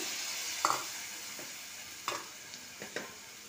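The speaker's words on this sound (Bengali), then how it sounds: "এবার এতে একটু তেঁতুলের জল দিলাম" Tamarind water stirred into an egg and fish curry in a pan, a faint steady sizzle broken by a few soft scraping clinks of a spoon at irregular intervals.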